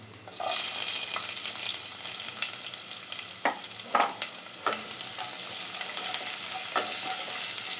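Garlic and sliced onion sautéed in oil in a pan, giving a steady close sizzle broken by intermittent scraping stir strokes, with no voices.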